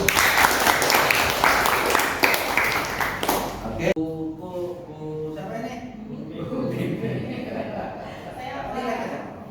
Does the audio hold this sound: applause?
yes